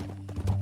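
Horse hooves clip-clopping in the video game Red Dead Redemption 2: a few quick, close hoof thuds over a low steady hum.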